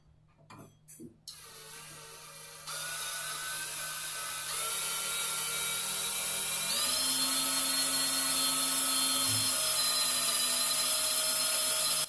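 A brushless cordless drill fitted with a metal bit bores into a 5 mm steel angle at low speed, giving a steady high whine that steps up in pitch and intensity as the bit bites, preceded by a few brief clicks of handling.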